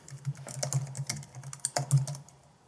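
An email address is typed on a computer keyboard: a quick, irregular run of light key clicks over a couple of seconds, close-miked and alone, with no talking.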